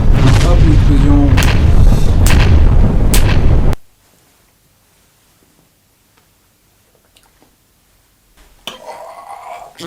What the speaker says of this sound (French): Hop, l'explosion.